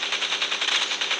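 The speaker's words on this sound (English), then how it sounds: "Let's go shoot him." Rapid automatic gunfire from the mech combat video game Super Mecha Champions, a fast, even stream of bright, clipped shots sustained for over a second.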